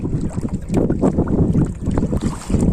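A boat moves along the Baruyan River in the wind, a loud, close, continuous rumble of wind buffeting and water rushing, with no talking.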